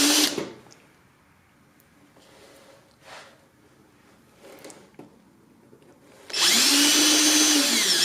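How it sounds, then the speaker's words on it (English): A power drill boring into a workpiece during a Sonex aircraft elevator build: a short whine at the start, quiet handling noises, then a loud, steady drilling run near the end. "I'm going to drill right into that piece."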